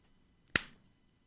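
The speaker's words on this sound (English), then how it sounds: "one of you do a clap for me?" One sharp hand clap rings out close by in a quiet room, a single crisp crack with a short tail, alone and without talk.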